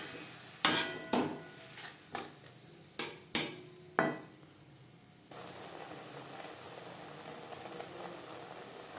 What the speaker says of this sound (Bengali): 3-4 মিনিট মশলা কষিয়ে নেওয়ার পর